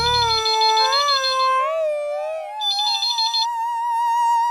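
A phone rings on a call placed to a shop, a bright electronic melodic ringtone with wavering tones, heard clearly and alone for a few seconds.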